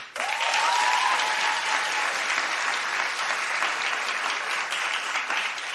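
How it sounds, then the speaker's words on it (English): A television studio audience claps to vote on who should open the show, a burst of loud, steady applause from a large crowd that holds at full strength for several seconds. "So clap if you think Chris should open the show."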